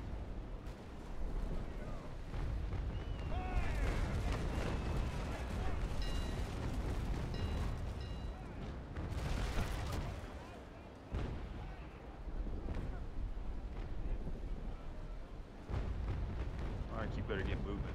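Ship cannons firing in a naval battle in the Naval Action game while pirates are fought, deep booming blasts and rumbling over a dense, continuous din of battle with voices talking throughout.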